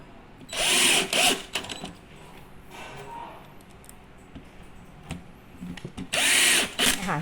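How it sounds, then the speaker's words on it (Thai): A power drill drives F screws into a bedside cabinet NT551 in two loud, close whirring bursts, one near the start and one at the end. Quiet handling clicks fill the gap between them. "แล้วเราก็ใช้น็อตนะคะตัว F นะคะในการยิง"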